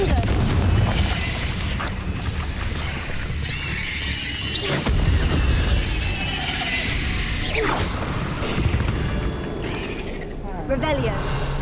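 A Confringo fire spell bursts in Hogwarts Legacy, blasts, whooshes and crackling impacts over a rumbling game soundscape, with squealing creature cries among the booms.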